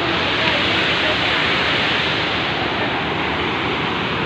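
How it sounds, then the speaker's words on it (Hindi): Rushing river water beside a hotel at Babusar Top roars loudly and constantly, a dense, unbroken torrent close at hand with no pauses. "नज़ारा चेक करें पानी का शोर कितना"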